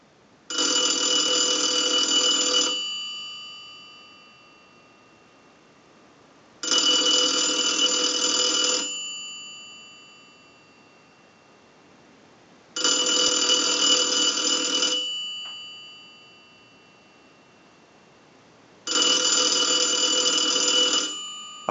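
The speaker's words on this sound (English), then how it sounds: "send a ring cycle like you were getting a call" An Automatic Electric three-slot payphone's bell rings in four long bursts, each about two seconds with a short fading tail, separated by steady pauses. Loud and close, no voices.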